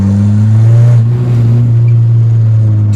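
A turbocharged car launches without brake boosting, its engine holding a loud, steady low drone with a slight rise and dip in pitch across about three seconds, with no talking.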